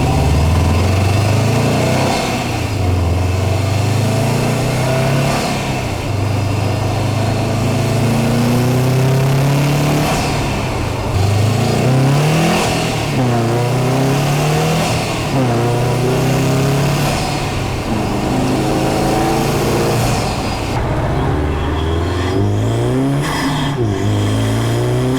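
A Subaru WRX STI, heard with the stock intake and then a Cobb Redline carbon intake, revs repeatedly, the engine note climbing and dropping in a series of loud, close pulls with no talking.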